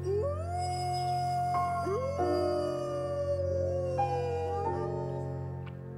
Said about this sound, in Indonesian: Kawanan serigala akan melolong bersama di tengah malam untuk menunjukkan keberadaannya